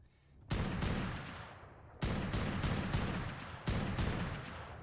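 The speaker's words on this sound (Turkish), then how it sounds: "Apex mermi sıkıyorum şu anda" Apex bullets fired from a weapon in the modded game ARK (Primal Fear, Ragnarok map) give three loud, booming shots, evenly spaced, each trailing off in a long rumbling decay.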